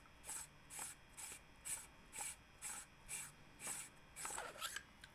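Handle of a custom 7 Chambers SK-IG lightsaber being unscrewed: a faint, regular series of short rasping scrapes, roughly two per second, each one a gritty twist of metal threads.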